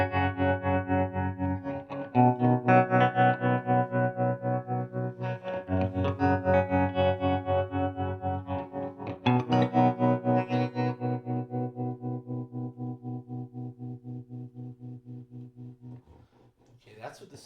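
Electric guitar through a Bias Wiggle tremolo pedal at full depth, chords pulsing in fast, deep, regular volume chops that slowly fade over several strums, alone without talk.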